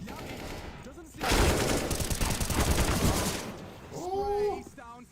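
Rapid automatic rifle spray fire in a Counter-Strike match at a major tournament quarter-final, a dense sustained burst of shots lasting about two seconds, loud and close, with game sounds and voices around it.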